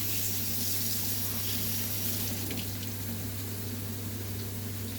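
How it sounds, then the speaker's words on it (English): Cold tap water runs steadily over cooked noodles being rinsed in a kitchen, a continuous close hiss over a low hum. "rinse them under cold water if you're trying to cool them down."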